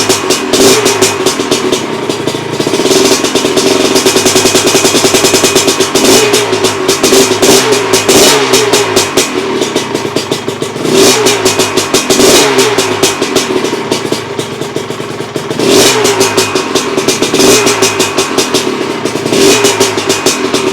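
A 1985 Honda 250R two-stroke engine running rough with heavy oil smoke, revving loudly again and again in a close, raspy cycle of rising and falling blips, with clattering between throttle bursts.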